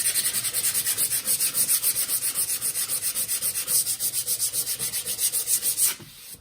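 Sandpaper rubbed by hand over a wood repair on wooden stairs, a steady rhythmic rasping of quick back-and-forth strokes, close and fairly loud, stopping abruptly near the end.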